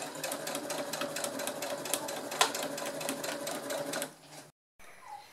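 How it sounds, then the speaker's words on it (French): A sewing machine stitches a zipper pouch using a zipper foot, a steady rapid mechanical whirr running close and loud for about four seconds before stopping abruptly, followed by a brief silence and faint handling noise. "J'ai bien mis mon pied à fermeture éclair, donc on est parti pour la couture."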